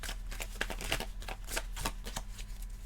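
A deck of tarot cards is shuffled by hand in close range, making a rapid run of crisp riffling snaps and flutters with no talking.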